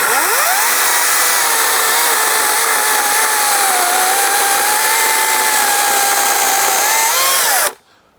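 A Greenworks 24-volt battery chainsaw with a 16-inch bar runs close and loud at a steady high whine, rising briefly before cutting out abruptly near the end.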